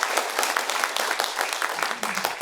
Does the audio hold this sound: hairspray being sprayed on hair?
no